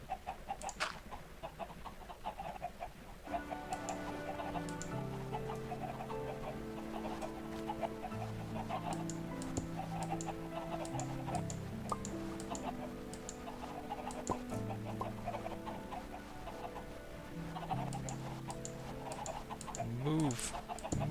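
Minecraft chicken clucks pop up over busy game music with bouncy melodic tones, accompanied by scattered clicking throughout.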